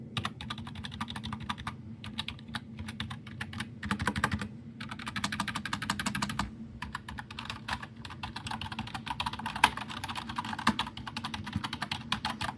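Continuous typing on a worn membrane keyboard, a dense patter of soft, muffled key presses with short pauses, close and fairly loud.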